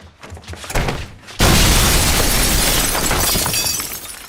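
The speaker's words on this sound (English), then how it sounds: "Strike is in an explosion for the second time in his life." An explosion in a TV drama scene: brief muffled activity gives way to a sudden loud blast with a long crashing, shattering wash of debris that slowly fades.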